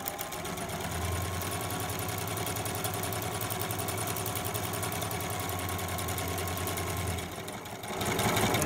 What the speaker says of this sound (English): and then you just sew down this edge